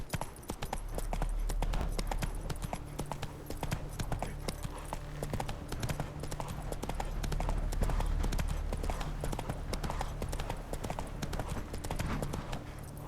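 Horse hooves clip-clop at a steady rhythmic gait while riding in The Witcher 3: Wild Hunt, a continuous run of soft thuds over a low ambient bed.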